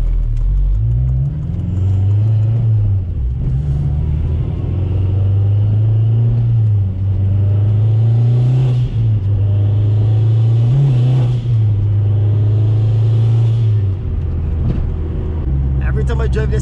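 A turbocharged Honda Civic Si engine revs and accelerates on a cold winter road, a loud, close droning rumble that climbs and falls in repeated gear pulls, with someone talking over it.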